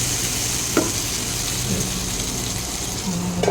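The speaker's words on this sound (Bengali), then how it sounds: "বেগুনটা আর একটু ফ্রাই হবে," Eggplant frying in a pan of oil, a steady, fairly loud sizzle that holds throughout with a few faint knocks of a utensil.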